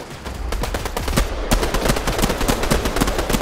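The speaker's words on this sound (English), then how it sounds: "Who's shooting?" Rapid gunfire in the Fortnite battle royale game, a dense run of sharp shots crackling steadily throughout, loud and continuous with bursts overlapping.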